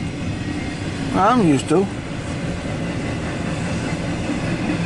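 A long CSX intermodal freight train rolls by with a continuous rumble and clatter of wagons, while a person speaks briefly over the passing noise.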